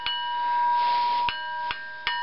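Soldered double barrels of an 1844 Purdey 10 bore rifle, suspended and tapped along their sides, give a sustained bell-like ring, with three further sharp taps each renewing the clear metallic tone.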